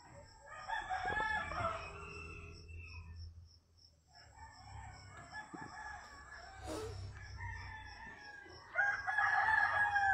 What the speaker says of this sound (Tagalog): Puro manok ang maririnig nyo.